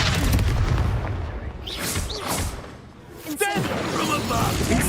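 Spell explosions going off in Hogwarts Legacy, several booming bursts and whooshing blasts scattered across the stretch under a voice calling out spell names.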